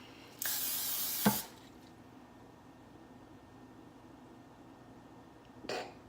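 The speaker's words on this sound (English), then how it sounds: "spray our baking dish. I'm using Pam" Pam cooking spray hisses onto a baking dish in one long, loud, close burst of about a second, followed by quiet and a brief second spritz near the end.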